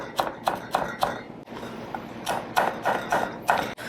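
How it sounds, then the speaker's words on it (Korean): A knife finely chops Cheongyang chili peppers on a board, making quick, evenly spaced taps in two short runs with a brief pause between them. The sound is close and fairly quiet, with no talking. "쫑쫑 썰어주세요"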